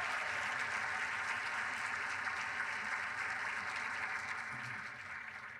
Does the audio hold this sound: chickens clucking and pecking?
no